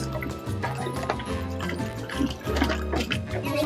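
Water runs and splashes continuously as lettuce is rinsed under a tap, a steady rushing, gurgling flow with small splashes, close up.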